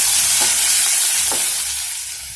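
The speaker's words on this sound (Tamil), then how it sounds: "அப்புறம் நம்ம நீளமா கட் பண்ணி வச்சிருக்கிற வெங்காயம், எல்லாம் நல்லா வதக்கிக்கணும்" Long-sliced onions being sautéed in a hot pan, a loud continuous hissing sizzle with a couple of faint stirring scrapes, no voices.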